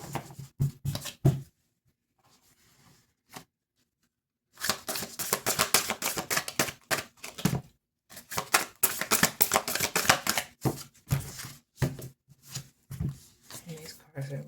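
Oversized tarot cards are shuffled in quick, clattering riffles that come in close, loud bursts with short pauses between, and a voice talks at times.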